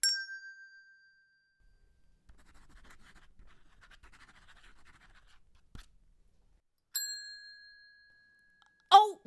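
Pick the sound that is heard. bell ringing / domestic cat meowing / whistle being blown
bell ringing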